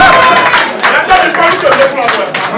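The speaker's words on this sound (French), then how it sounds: "On applaudit s'il vous plaît" A crowd claps steadily and loudly throughout at a music album launch event, with voices mixed into the applause.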